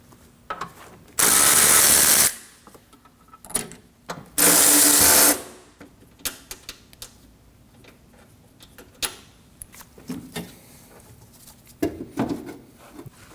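A hand ratchet working 13mm strut bolts loose on a Ford Edge, with two loud sustained bursts of clicking early on, then scattered sharp metallic clicks and taps of tools close by.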